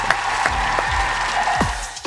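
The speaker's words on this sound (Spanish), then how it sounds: "Un aplauso" Audience applause in a studio or auditorium setting, a steady wash of clapping with a few louder individual claps standing out, fairly close and continuous for a couple of seconds.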